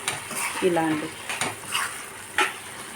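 A utensil stirs vegetable Maggi noodles with green peas in a pan, a few soft scrapes and clinks against the metal over a faint sizzle, close by with no talking.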